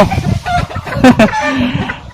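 Fighting-cock roosters on a Thai farm give clucks and short crowing calls over a busy, noisy background, with a few overlapping bird cries standing out near the middle.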